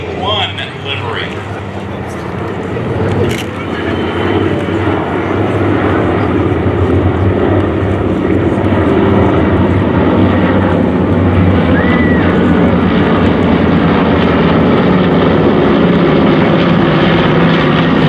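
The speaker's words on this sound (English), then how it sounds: "3 B-25 Mitchell bombers, 2 of them B-25s, one actually in Marine Corps PBJ-1 livery." A loud, steady drone of propeller engines rumbling overhead as three B-25 Mitchell bombers fly past, one in Marine Corps PBJ-1 livery, swelling gradually and holding strong.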